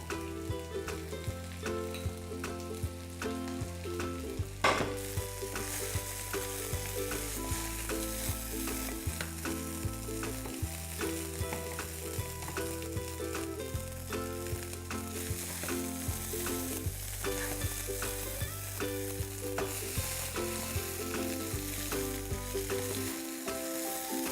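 Oil heats in a small egg pan with a continuous sizzle and crackle. Loud background music plays throughout, and no one speaks.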